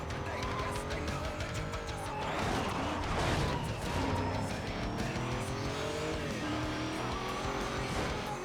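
Race cars roar and tires squeal through a racing video game, engines revving steadily over about eight seconds with a song playing loudly alongside.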